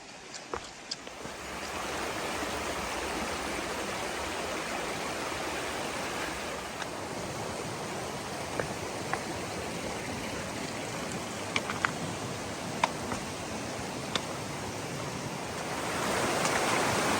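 A waterfall's steady, broad rush of falling water roars continuously on a New Zealand hiking trail, with occasional faint clicks and taps over the constant wash.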